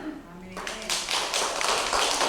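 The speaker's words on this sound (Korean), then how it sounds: "우리 하나님 앞에 영광의 박수 올립시다" Congregation in a church breaking into clapping after a sermon, a dense burst of hand claps starting about half a second in and filling the rest of the short clip, fairly close and steady.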